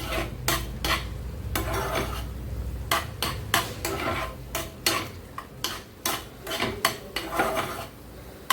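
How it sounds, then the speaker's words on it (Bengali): A spoon scrapes and clinks against a pan while stirring semolina dough, in a steady run of sharp, close metallic taps and scrapes with short pauses between strokes. "এই চামচের আমি এটা ভালো করে একটু নাড়িয়ে নেব। এটা ডো ফর্মে নিয়ে আসবো এটাকে।"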